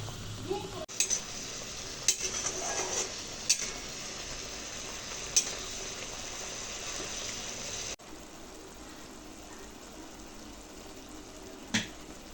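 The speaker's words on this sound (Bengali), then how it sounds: "আগে থেকে করে রাখা মশলার মিশ্রণটা আমি দিয়ে দিচ্ছি মশলাটাকে ভালোভাবে আমি কষিয়ে নেব" A pre-made spice mixture sizzles softly in oil in a pan while being cooked down for a vegetarian ghugni, with a steady low frying hiss, a few scraping stirs and clinks early on, and a brief knock near the end.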